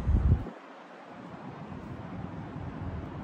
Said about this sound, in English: this wind feels good